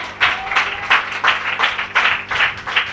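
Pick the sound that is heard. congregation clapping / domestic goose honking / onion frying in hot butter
congregation clapping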